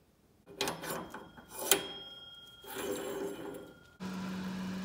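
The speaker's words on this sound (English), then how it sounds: "I'm gonna jam it inside of this thing, and that should work very well" A metal spacer is jammed onto a racing lawn mower shaft, giving a few close, sharp metallic clinks and scraping knocks, then a steady low hum.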